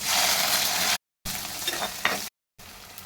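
Two chopped onions fry in hot oil for a fish curry, a bright, steady sizzle that cuts out twice in brief silences before resuming.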